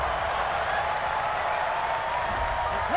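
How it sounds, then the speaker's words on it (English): A home crowd at an NFL stadium, Green Bay Packers against Minnesota Vikings, reacts to a pass interference penalty call with a broad, sustained roar of voices, steady and distant-sounding across the whole stretch. "Some boos coming down right now from this home crowd after that call."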